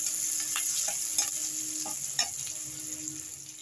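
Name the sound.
onions frying in a pan for egg curry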